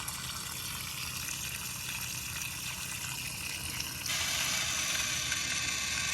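A gravity-feed irrigation valve is turned off as steady water flow hisses through the line, then the sound shifts abruptly to a brighter, louder rush near the end; no one speaks.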